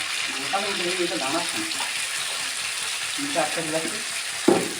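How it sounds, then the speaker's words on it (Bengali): Fish frying in a pan sizzles softly and steadily throughout, with a few faint clinks and a short knock near the end. "দেখি মাছ ভাজাগুলো দেখি"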